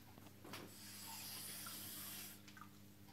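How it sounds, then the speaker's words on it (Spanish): A little water poured from a tap while preparing four-cheese ravioli in a kitchen, a soft steady stream running for about two seconds, quiet and close, with no talk. "Y echamos un poquito de agua."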